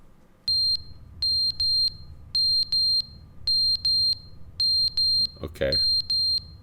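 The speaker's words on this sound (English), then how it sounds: "Fire alarm." Fire alarm in the video game The Stanley Parable rings in repeated pairs of shrill electronic beeps, steady and loud, with a brief spoken word and a short noise burst near the end.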